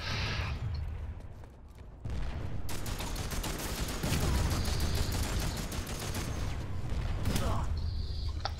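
Continuous gunfire in PlanetSide 2, with enemies shooting from a side base: rapid rattling volleys that run almost unbroken, loud and close, with mechanical clatter and occasional voices underneath.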